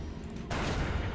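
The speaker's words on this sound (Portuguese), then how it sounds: "Tiro de pistola nela." A pistol shot rings out in the dark fantasy video game Darkest Dungeon, a sudden loud report that cuts in midway through and is followed by a sustained noisy crash and rumble.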